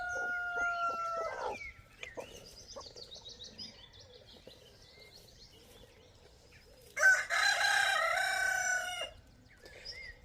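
Rooster on a homestead crows twice, a short call early and a longer, louder crow near the end, with soft clucking and chicken sounds in between against a quiet background.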